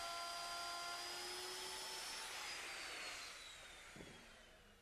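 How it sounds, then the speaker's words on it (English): A router with a 1-inch roundover bit shaping the edge of a wooden stair tread: a loud high-pitched whine that spins down and fades, ending with a small knock. "To do this, I'm using a 1-inch diameter roundover bit."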